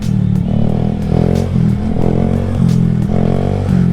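Motorcycle engine drones loudly and steadily while riding on urban city roads in Washington state, around Seattle and Everett, with gear shifts and rising revs, plus some rattling and road noise.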